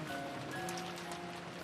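Steady rain and wind ambience from the visual novel Umineko When They Cry, a soft continuous wash of falling rain with faint tonal hum beneath, no voices.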